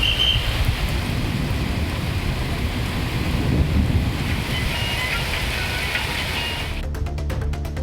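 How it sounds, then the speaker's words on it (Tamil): Heavy rain with thunder pours down in Tamil Nadu, a steady broadband wash with deep low rumbling throughout and a crackly burst of static-like noise near the end, with no voices. "இடியுடன் கூடிய கனமழை பெய்தது"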